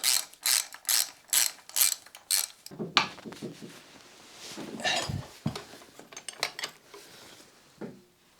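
A motorcycle front axle pinch bolt on a Yamaha FZ6 is loosened with a ratchet, a run of sharp regular clicking bursts up close, followed by irregular metallic clanks and handling of tools.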